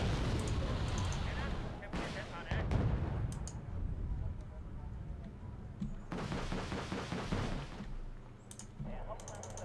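Conqueror tanks fire in the Wargame: Red Dragon battle game with heavy booming shots and rattling bursts of battle noise rising and falling over about ten seconds, while a voice talks over them.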